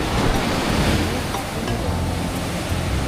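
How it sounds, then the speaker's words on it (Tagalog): Powerful ocean surf at Isla Malaya, Dingalan, Aurora roaring continuously at close range, a dense wash of crashing waves with no pauses and no talking. "Sobrang lakas ng alon."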